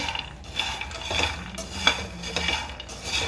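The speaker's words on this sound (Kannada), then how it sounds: "ಶೇಂಗಾ ಚಟ್ನಿ ಪುಡಿಗೆ ನಾನು ಒಂದು ಎರಡು ಲೋಟ ಅಷ್ಟು ಶೇಂಗಾ ತೊಗೊಂಡೇನಿ ಇದನ್ನು ಚೆನ್ನಾಗಿ ಹುರ್ಕೋಬೇಕು" Peanuts dry-roasting in a pan while being stirred, close rattling and scraping of the nuts and utensil against the metal with short irregular clinks, no voices.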